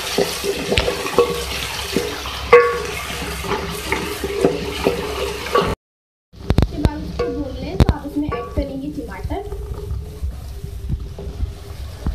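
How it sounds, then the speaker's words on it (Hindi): Chana dal and onions sizzle and crackle in a pan while being stirred, with a continuous frying hiss and scattered scraping clicks, broken by a short silent gap near the middle. "इसको मैं भून लूँगी प्याज के साथ।"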